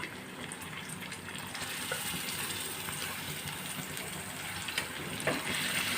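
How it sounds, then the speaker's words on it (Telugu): Chicken liver pieces frying in a pan for pepper liver fry, a continuous bright sizzle with a watery, bubbling hiss that holds steady throughout, plus a few faint clinks. "శుభ్రంగా కడుక్కొని కోసి ఉంచుకున్న లివర్ని కూడా వేసుకుందాం"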